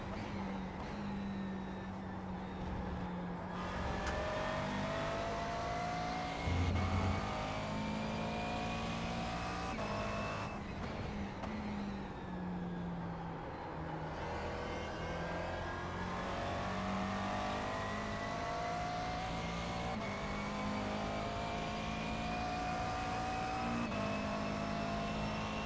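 Race car engine in a racing video game, a steady loud drone with shifting pitch as the car revs, lifts and accelerates through gears, continuous for the whole stretch.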